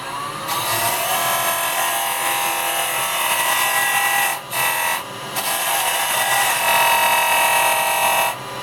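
A wood lathe turns a goblet blank while a carbide chisel cuts a tenon, a loud continuous whirring hiss with scraping texture, broken by two short pauses and a brief dip near the end.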